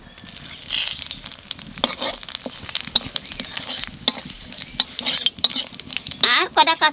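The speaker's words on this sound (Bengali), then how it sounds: "মাছ ভাজা তেলের উপর দিয়ে দেবো জিরে তেজপাতা।" Cumin and bay leaves hit the oil left from frying fish and are stirred, giving soft sizzling with frequent metallic scrapes and clinks of a utensil against the pan, louder toward the end.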